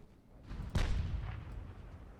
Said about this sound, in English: Looks like the cruisers are now opening fire.